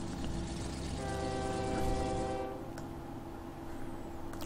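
Trains in the OpenTTD video game sound off with a sustained harmonic horn tone over rolling rail noise, which cuts out midway leaving quieter rumble.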